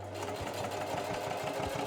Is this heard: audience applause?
no